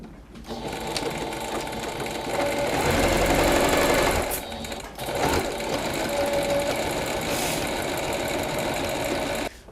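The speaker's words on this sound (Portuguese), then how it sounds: "Vou fazer a costura aqui em toda a volta." A sewing machine stitches a seam around the edge of a cloud-shaped pillow, a loud continuous rapid whir that runs for several seconds, halts briefly, then resumes at an even pace until it stops.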